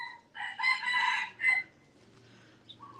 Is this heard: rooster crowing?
yes